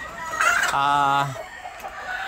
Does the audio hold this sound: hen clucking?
yes